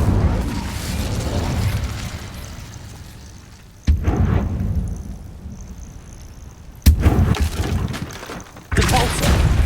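Fiery Incendio spell bursts in the Hogwarts Legacy video game, three sudden loud blasts with crackling roaring tails amid ongoing combat noise.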